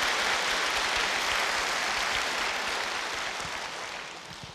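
A large audience at a choir event in Seoul applauds to welcome soldiers from the Capital Defense Command, a dense, sustained wash of clapping that stays loud before gradually tapering off.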